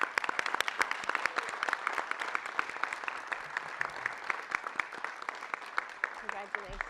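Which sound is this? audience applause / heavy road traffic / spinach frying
audience applause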